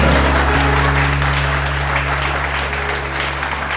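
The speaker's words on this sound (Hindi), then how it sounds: "अपने लिए तालियां बजाइए ज़रा" Studio audience on a TV morning show clapping loudly and steadily for themselves, a thick sustained burst of applause over a constant low electrical hum, fading slightly toward the end.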